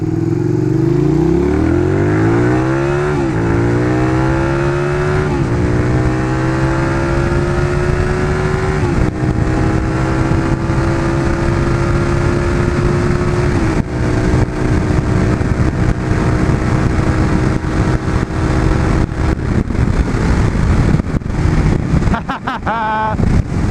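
A motorcycle rides along a road for the whole stretch. Its engine drones loud and close, rising in pitch as it accelerates through the gears, with steady wind buffeting the microphone.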